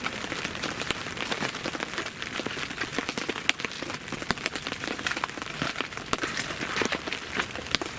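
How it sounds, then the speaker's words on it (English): Steady rain falls and patters on a surface, a dense crackle of drops continuing throughout at moderate volume with no voices. "The rain has kicked in at 3 AM"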